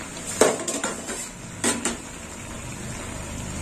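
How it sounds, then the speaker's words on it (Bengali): A lid comes off a simmering pot of sour drumstick-flower curry with a metallic clank, then a second rattle of metal a moment later, over a low background hiss. "ঢাকনা খুলে"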